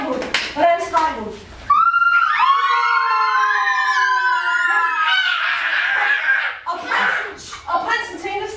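Several kindergarten children scream together in imitation of a captured princess, a long, loud, wavering chorus of high voices, with chatter and talk before and after.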